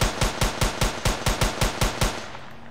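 Rapid gunfire from a first-person Unreal Engine 4 shooter prototype, about ten loud, evenly spaced shots in a steady rhythm, heard alone and fading out at the end.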